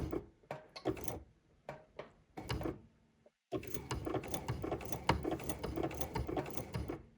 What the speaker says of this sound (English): I'm just gonna stitch right on top of my previous stitching